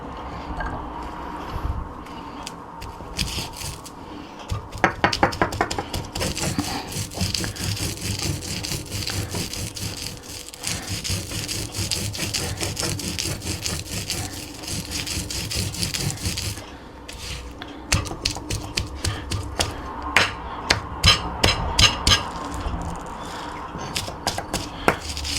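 Chilli chutney with garlic and curry leaves is ground in traditional style, making a close, rhythmic rubbing and scraping that continues in repeated strokes, with a brief quieter pause midway.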